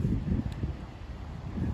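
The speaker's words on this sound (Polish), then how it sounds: "Sorry za wiatr, ale nie mam kamery," Wind gusts rumble across a phone microphone out in a field during metal detecting, coming in low, uneven bursts that swell at the start and end.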